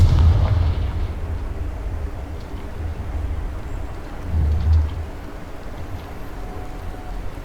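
The Confringo fire spell in the video game Hogwarts Legacy goes off as a deep, booming explosion at the start, with a second muffled rumbling burst a few seconds later under steady low game ambience.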